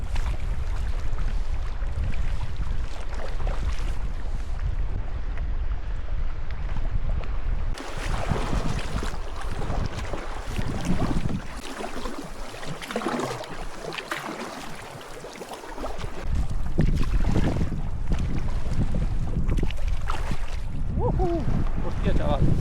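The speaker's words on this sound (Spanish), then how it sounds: "Estaban ya las olas casi llegando al borde de la canoa" Wind buffets a canoe on the Yukon River as waves slosh against its hull, a loud, close, continuous roar of gusts and rushing water that dips briefly midway and then surges back.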